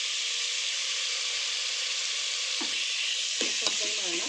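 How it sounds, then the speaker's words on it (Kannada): Chopped tomatoes frying in a pan for chana paneer masala, a dense continuous hiss of sizzling oil up close, with a few brief spoon scrapes near the end. "ಇದು ಚೆನ್ನಾಗಿ ಫ್ರೈ ಆಗಬೇಕು. Tomato full ಮೆತ್ತಗಾಗಬೇಕು."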